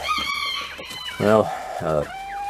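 A hen clucks and calls in short, nasal bursts nearby, two louder drawn-out calls standing out against a quiet background.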